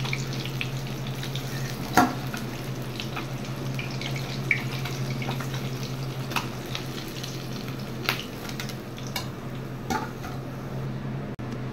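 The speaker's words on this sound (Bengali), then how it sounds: "মাছগুলো হালকা ভেজে উঠিয়ে নিচ্ছি।" Parshe fish frying in hot oil, a steady close sizzle with scattered pops and crackles running throughout, no voices.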